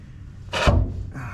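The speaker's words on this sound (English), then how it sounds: "That noise you hear scooting is the jack stand" A jack stand scoots briefly across the ground under a car resting on it, one short scraping rub, close and fairly loud, with no talking.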